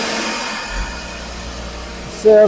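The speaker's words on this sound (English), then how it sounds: "You turn on the vacuum" Vacuum of an SLS4ALL post-process station for 3D-printed parts runs with a steady airy whoosh and hum, followed by a louder burst near the end, with a brief spoken word over it.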